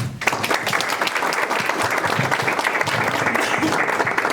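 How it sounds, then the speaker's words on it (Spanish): Loud, sustained audience applause at a critical-thought and philosophy conference session, a dense, even roar of many hands clapping close by throughout, with no speech over it. "Un aplauso, por favor."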